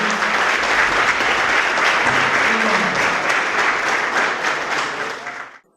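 An audience gives dense, sustained applause after a cheese tasting talk at an agribusiness event, many hands clapping loudly and steadily with murmured voices beneath, cutting off abruptly at the end.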